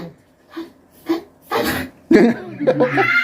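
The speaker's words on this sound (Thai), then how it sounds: "เสียงจาม" A sneeze bursts out amid lively Thai conversation, a sharp broadband explosive burst partway through, with people talking and laughing around it.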